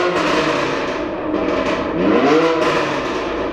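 A Lamborghini LP700-4 exhaust rumbles loudly and close at a car meet in an open shop in Van Nuys, California, holding a steady roar with a rising rev swell partway through.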